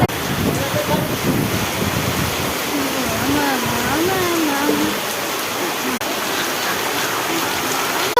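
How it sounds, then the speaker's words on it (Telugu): Rain pours down in a dense, steady hiss, with a person's voice briefly audible beneath the downpour. "వర్షం పడుతుంది."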